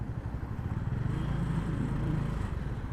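Motorcycle engines rumble nearby at the Suzuki motorcycle festival in Mumbai, a continuous throaty low drone with slight rises and falls, heard without talk.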